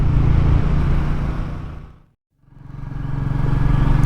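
A Royal Enfield Meteor 350 motorcycle rides curvy back roads, its steady engine drone and wind roar loud and close, fading out to brief silence before building back up to full strength, with no one talking.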